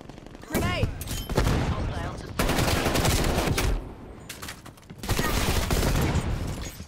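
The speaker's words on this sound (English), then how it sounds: "So he's able to hip fire point blank me with an M16" Rapid bursts of M16 rifle fire in Call of Duty Black Ops Cold War, loud and close, with several volleys separated by short pauses and game sounds around them.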